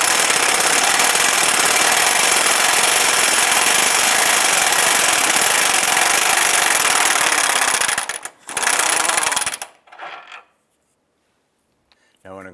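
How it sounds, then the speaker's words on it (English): A loud power tool rattles without a break while removing the forward subframe bolt of the lower control arm on a 2005–2012 Honda Civic, then stops abruptly with a short second burst and metallic clinks trailing into silence. "We're now going to go ahead and remove the forward mounted bolt and the subframe holding that control arm."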